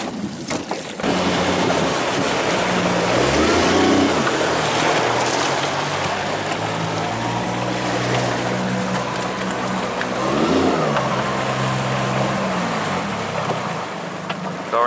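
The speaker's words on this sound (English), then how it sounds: "you gotta warm the engine up a little bit more" A boat engine runs steadily as the boat loops around to warm up, a constant loud drone mixed with water slap and heavy wind buffeting the microphone.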